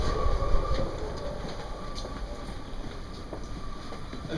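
A Glasgow Subway train running toward Ibrox, a continuous rumbling roll with faint rail clatter and a high whine, loudest at the start and then steady.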